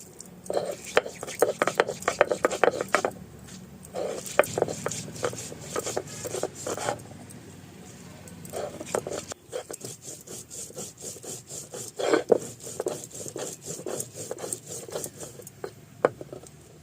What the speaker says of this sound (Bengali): আদা এবার সব একসাথে বেটে নেব